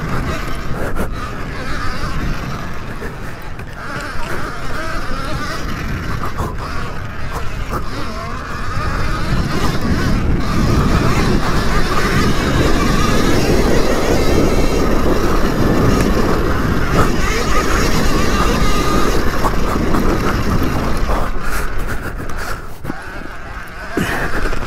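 A Sur-Ron electric dirt bike rides through sand, a continuous roaring wash of motor and churning sand that grows louder and rougher midway, then eases slightly near the end.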